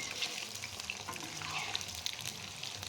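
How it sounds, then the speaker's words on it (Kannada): A garlic kebab fries in a pan after being turned over, giving a soft, even sizzle with faint crackles, heard close by and without any talk. "ಇದನ್ನು ಇವಾಗ ನಾವು ಇನ್ನೊಂದು ಸೈಡು ಈ ರೀತಿಯಾಗಿ ಉಲ್ಟ ಮಾಡಿಕೊಂಡು ಬೇಯಿಸ್ಕೊಬೇಕಾಗುತ್ತೆ"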